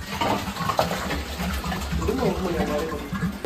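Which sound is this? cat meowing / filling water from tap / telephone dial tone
filling water from tap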